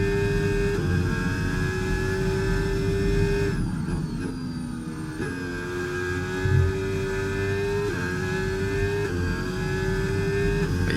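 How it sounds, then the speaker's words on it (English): A Formula 1 car engine in the F1 25 racing game screams at a steady high pitch. It dips briefly and then climbs again as the throttle comes back on. The whine continues throughout with no talking. "getting on the throttle a little too early there into that turn"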